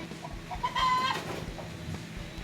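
A hen on a farm cackles loudly and agitatedly before laying an egg, a burst of squawking clucks standing out over softer background fowl noise.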